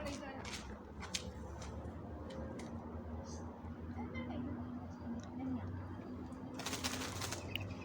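Pigeons coo amid a steady, busy outdoor murmur in a village neighbourhood, with people talking and laughing nearby.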